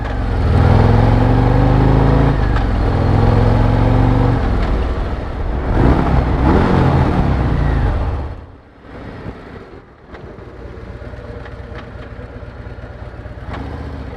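A motorcycle engine is heard from the rider's position while riding, loud and close, with a steady roar that swells and drops through gear changes, a sudden dip as the rider downshifts, then a lower, rougher running note.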